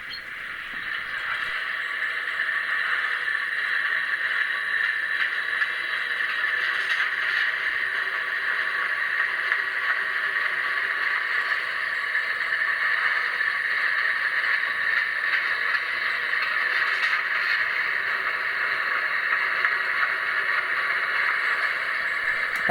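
An HO scale model locomotive runs continuously, making a steady, close mechanical whir with a faint rattle throughout, with no voices.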